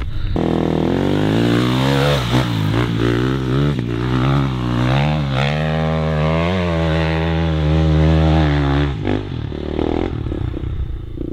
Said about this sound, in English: you're going up that one, which is even steeper, on a bloody motocross bike